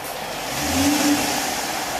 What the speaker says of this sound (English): Muffler delete is not nearly as invasive as I thought it would be.